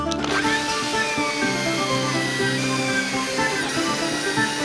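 Drill bit boring straight through a wooden piece while shaping a wooden cup, a close, loud, steady whine holding a constant pitch with layered harmonics throughout.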